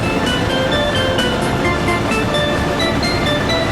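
Train riding along in the Soviet-era city-building game Workers & Resources: Soviet Republic, a steady, loud rolling rumble with faint clacking and high tonal squeals, continuous throughout with no talk.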